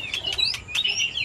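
A songbird kept for singing contests gives a brief burst of bright, high chirps and a sliding whistled note, close and fairly soft, with no other sounds.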